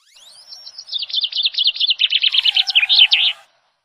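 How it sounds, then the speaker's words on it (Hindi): A bright, rapid trilling bird song used as a magical bird effect in a fairy tale, rising into a fast warbling chirp run that lasts a few seconds, loud and close with no talk. "एक जादुई चिड़िया शाहीन जिन्न के भोजन के लिए चमकते हुए जादुई मोती ले जाया करती थी।"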